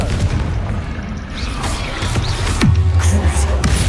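Confringo fire spell explosions in Hogwarts Legacy: several booming blasts and pops over a steady combat din, the loudest impact arriving late with a deep rumbling tail; faint voices mix in.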